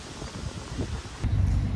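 Steady wind buffeting the microphone at a high viewpoint over Bath, a continuous rough rumble with gusts swelling louder toward the end.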